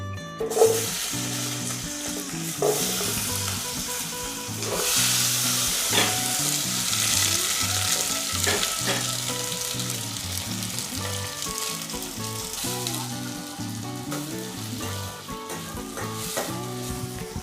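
Small onions (shallots) fry in a pan with a constant loud sizzle, stirred now and then with scraping utensil strokes, close and steady throughout with no talking.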